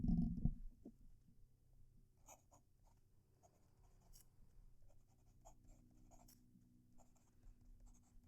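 A Platinum Preppy fountain pen scratches across paper in short, faint, intermittent strokes, quiet and close, after a brief louder thump at the start.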